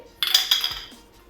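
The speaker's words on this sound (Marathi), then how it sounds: "गॅस चालू करून कढईवर ठेवते तेल तापायला टाकते" A kadhai set down on a gas stove, two close metallic clanks ringing briefly over a quiet kitchen, with no talking.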